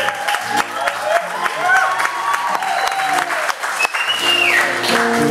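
An audience at a live gig in a brewery claps steadily and loudly, the applause running under speech and stray tones throughout.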